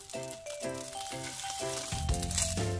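Flour-and-egg coated stuffed chili peppers sizzle in a heated frying pan, a soft steady crackle under faint rhythmic background music, growing slightly louder toward the end.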